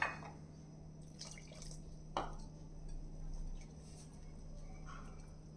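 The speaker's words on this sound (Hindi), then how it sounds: "तो थोड़ा थोड़ा पानी डालते जाएंगे और इसका हम एक" Water trickles gradually into sorghum flour batter for jowar dhokla, giving faint, scattered drips and small splashes over a low, steady background hum. No one speaks.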